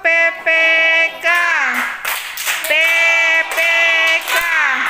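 Elementary school children perform the Tepuk PPK clapping chant, with loud, sustained sung or chanted voices broken by short bursts of clapping between phrases.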